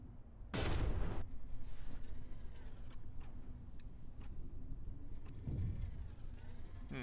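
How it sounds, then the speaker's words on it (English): Guns fire in the naval combat game From The Depths as submarine and side-mounted guns open up, with a loud burst of shots followed by scattered, fainter reports and a second volley against a rumbling background. "The sub-guns are opening up."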